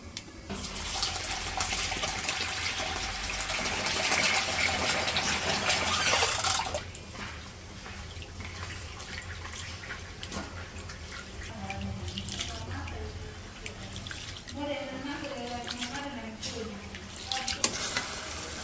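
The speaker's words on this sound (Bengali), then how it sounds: "চাল আর ডালগুলো ধুয়ে নিই।" Rice and lentils washed under running tap water at an outdoor village cooking spot, a loud steady gush of water that stops partway through, followed by quieter splashing and handling.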